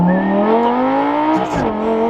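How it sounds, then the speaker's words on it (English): A Lamborghini Gallardo STS exhaust revs close by, its tone climbing smoothly with rising harmonics before a brief crackling drop off the throttle near the end. "The exhaust on this sounds so good!"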